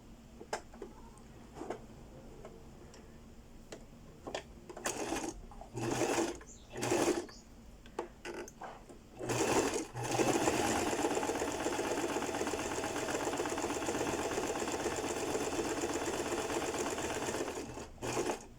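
A sewing machine runs a zigzag stitch along the edge of a fabric facing, starting with several short bursts and then settling into a long, loud, continuous run, with no talk.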